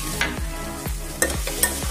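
Coriander leaves being stirred into a frying pan during cooking of a quick fasting-day dish, with a repeated scraping stir sound every half second or so over a low sizzle, close and fairly loud, with no talking.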